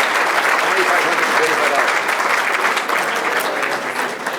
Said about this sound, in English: Round of applause for Mr. Miller.